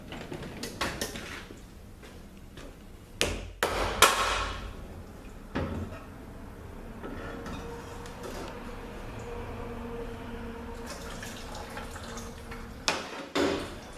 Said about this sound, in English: I want to get my other hammer and bang these filters, loosen up.